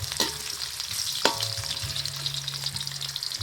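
Ginger sizzles steadily in a hot pan as the first aromatics for snails in coconut milk, with sharp scrapes and clinks of a spoon over a continuous frying hiss, heard close with no talking.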